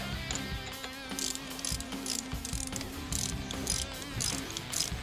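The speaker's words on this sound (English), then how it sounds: "Slot that over, get a quick wiggle into place, bolts in." Ratchet tightening the brake caliper bolts on a BMW S1000RR track bike build, with rapid close clicking in short bursts over a steady mechanical background hum.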